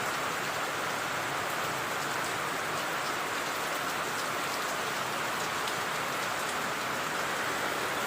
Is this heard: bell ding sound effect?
no